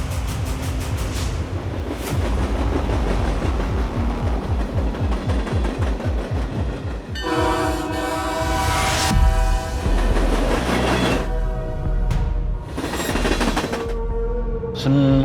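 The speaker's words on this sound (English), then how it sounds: "riding on top of a train through Mexico" A train rolls along the rails through Mexico with rhythmic clickety-clack and rumbling, then metallic screeching and grinding rise as the cars move, loud and close.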